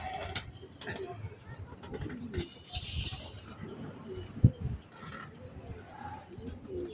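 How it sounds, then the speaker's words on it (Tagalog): Racing pigeons at a loft after a long-distance race, giving soft, scattered coos and faint chirps in the background while people talk nearby, with a single sharp tap midway. "Bali, pang-apat nating kalapati si Bunso."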